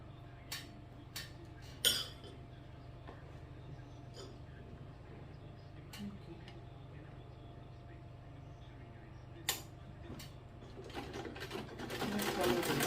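A sewing machine stitches a panel skirt with a steady, faint, rapid mechanical whir throughout, broken by a few sharp clicks and growing louder toward the end.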